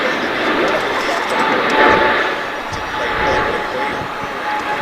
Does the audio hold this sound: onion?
no